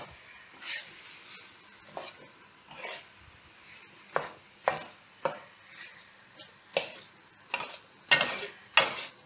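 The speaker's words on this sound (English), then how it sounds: "that needs time to fry to release all the nice oils, flavors, and a vibrant red color" Doubanjiang chili bean paste frying in oil in a wok for mapo tofu, a soft continuous sizzle broken by regular scraping stirs of a spatula, close and fairly quiet, with no talking.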